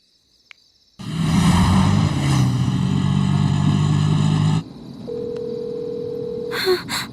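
A phone rings loudly with a steady electronic tone for several seconds, then a quieter single beeping tone follows, ending with brief chirps.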